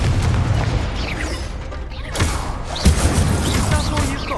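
Magical Confringo blast spells exploding in Hogwarts Legacy combat, a dense run of booming, crashing impacts with sharper bursts near the end over a constant loud battle din.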